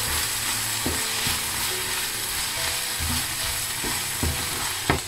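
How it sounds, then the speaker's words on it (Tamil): Grated coconut being stirred into a pan of frying prawns and onion flowers, with steady broad sizzling throughout and scattered knocks of a spoon against the pan, no talking. "தேங்காய்ப்பையும் போட்டு மிக்ஸ் பண்ணுங்க"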